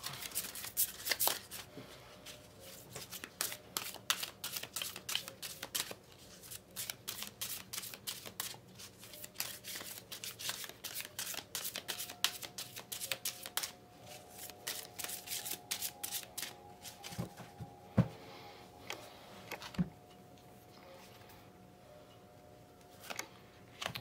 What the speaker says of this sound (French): On va tirer les cartes.